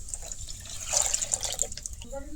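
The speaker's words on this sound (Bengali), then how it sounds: "আর সেম বাটি দিয়ে আর একটু কম সমান সমান জল দিয়ে দিলাম" Water poured from a bowl into a wok of lentils for a homemade mango drink, a short trickling splash up close as someone talks over it.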